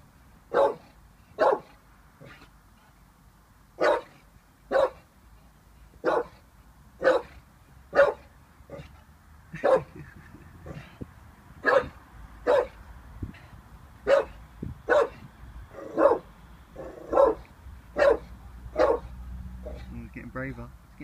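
An 18-month-old Staffordshire Bull Terrier barks in a steady series of about seventeen sharp, evenly spaced barks, fairly close and clear, with only faint background noise between them.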